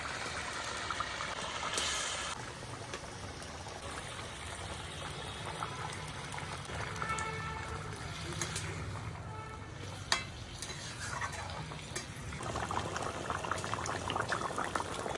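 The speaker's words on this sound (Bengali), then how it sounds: "ঝোলটা ফুটে গেছে" A pot of fish curry broth boils at a steady rolling bubble, a dense continuous gurgle with a brief clink partway through, and nobody speaks.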